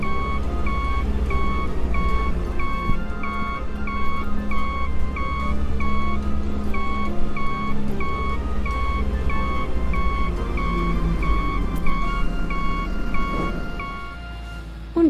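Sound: vehicle reversing, with reversing beeps

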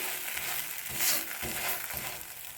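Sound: chickpea masala dosa cooking on a pan over medium flame

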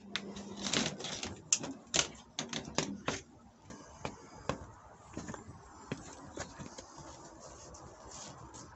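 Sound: rain tinkling on a pocket umbrella

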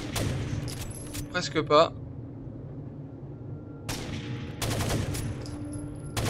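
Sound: gunfire in Rainbow Six Vegas 2 video game

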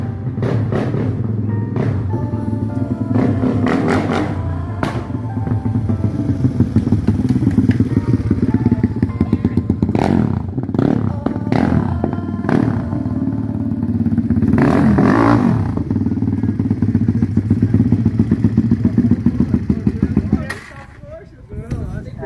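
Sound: Honda Twister motorcycle with 95mm track engine revving

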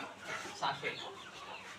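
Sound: rooster clucking

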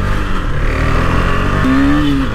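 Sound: motorcycle riding fast on the road

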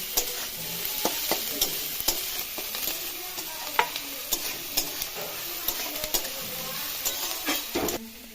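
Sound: onions frying in a pan for pitha filling

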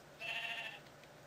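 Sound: sheep bleating in Minecraft video game

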